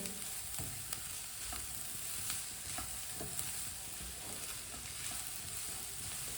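Chicken sizzling and frying in a pan while a spoon stirs it, a steady close hiss with light scraping taps scattered throughout and no voices.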